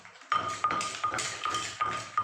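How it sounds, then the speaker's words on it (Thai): A wooden pestle pounds steadily in a mortar while Thai spicy salad is made, giving about five solid, close thuds with a ringing edge, evenly spaced and loud with no talk. "ฟังเสียงสากตรงๆ"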